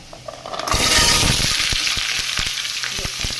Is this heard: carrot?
yes